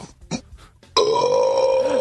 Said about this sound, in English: give us one more burp and we'll move on